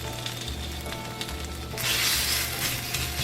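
Tomato paste sizzling and frying in a hot pan, a steady hissing crackle that swells louder partway through, close and alone with no talking.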